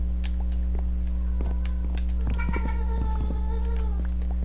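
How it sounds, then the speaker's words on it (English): A domestic cat meows in the background of a room, a few faint drawn-out calls plus scratching-like taps over a constant electrical hum, no voices. "I apologize for my cat in the background."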